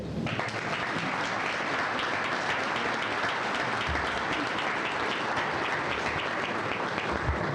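Sustained, dense applause fills a hotel ribbon-cutting crowd, steady and loud for about seven seconds, with no talking over it.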